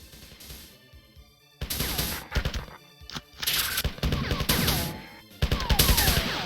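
Gunfire from the game Marathon comes in loud, rapid bursts separated by short pauses, with sharp repeated shots crowding the later part of the clip.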